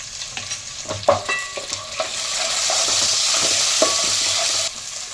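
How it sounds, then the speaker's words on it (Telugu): Ginger garlic paste frying in hot oil, a steady close sizzle with intermittent scrapes and clicks of a stirring spoon, the sizzle swelling and holding before cutting off near the end; no speech. "అల్లం వెల్లుల్లి పచ్చివాసన పోయేంత వరకు బాగా వేయించుకోవాలి."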